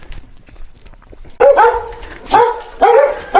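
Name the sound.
dogs barking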